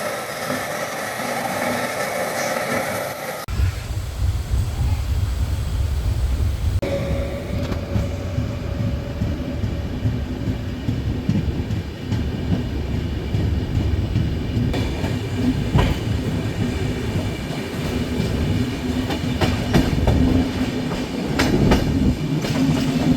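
The Ajmer Superfast Express rolls into Durgapur railway station with a loud, steady rumble and rhythmic clickety-clack of wheels on rails, a brief horn-like tone early on, no voices.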